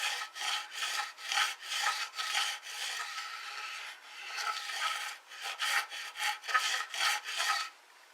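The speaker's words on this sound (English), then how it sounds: "I'm listening for the sound of metal on metal. When that sound goes away, I know I'm finished." Guitar frets are being leveled with a file, giving repeated close rasping strokes in an uneven rhythm. The sound is soft and scratchy with brief pauses between groups of strokes, and nobody speaks.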